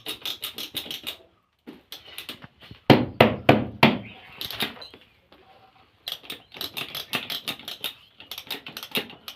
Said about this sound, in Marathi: दुसऱ्या मशनीने ती क्लिप बंद करण्यात आली घट्ट करण्यात आली